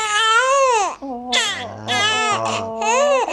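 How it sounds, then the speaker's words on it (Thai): A young girl cries loudly and close up in long, wailing sobs broken by brief gasps and choked breaths, with continuous strained vocal crying throughout. "นี่เหตุผลบอกไม่ได้นะว่าร้องไห้เพราะอะไร"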